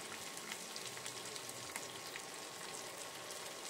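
Cubed onion and capsicum fry in a pan for chili egg, giving a steady soft sizzle and crackle with occasional faint stirring scrapes.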